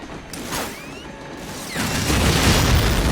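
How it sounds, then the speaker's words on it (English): Barrels explode in the World War II shooter Medal of Honor Frontline, with a mechanical clank and whoosh that swell into a loud, sustained rumbling blast in the second half, with no talking. "Those barrels are blowing me. Those barrels are getting me."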